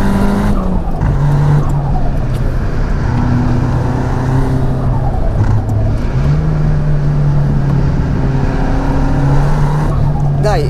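A turbocharged Nissan Silvia S15 Spec R engine drones loudly and steadily while overtaking a camper, its pitch rising and falling through gear changes, with a voice talking in Italian over it.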